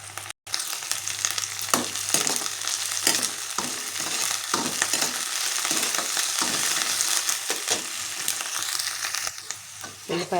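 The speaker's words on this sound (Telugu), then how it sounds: "ఒక నిమిషం బాగా ఫ్రై అవ్వనిద్దాం. ఉల్లిపాయలు బాగా ఫ్రై అవ్వాలి." Onions and curry leaves frying in a pan for chicken curry, with a steady loud sizzle and crackle running throughout and occasional stirring scrapes, no voices.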